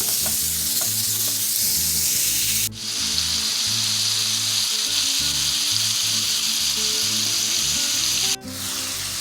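Seasoned ground beef browning in a pan makes a loud, continuous close sizzle with stirring, briefly dipping twice, with no talk.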